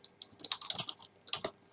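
Quick, light clicking of keys on a computer keyboard, a soft irregular patter of keystrokes in two short bursts, faint and close, with no talking.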